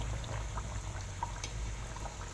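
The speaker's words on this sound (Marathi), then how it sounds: "मंद आचेवर तळायचे आहे आणि अगदी हळूहळू तळायचं आहे" Puri kachori deep-frying slowly in oil on a low flame, a soft, steady fizz and crackle of bubbling oil, close and quiet, with no talking.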